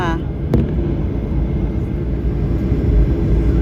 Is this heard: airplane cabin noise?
yes